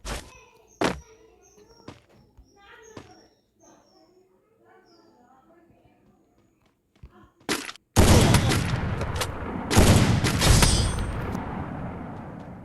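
Sniper rifle fire in a Free Fire 1v1 match: a few sharp game thuds and clicks sound early on, then loud booming shots and a sustained roar of gunfire take over, with a player talking over the action.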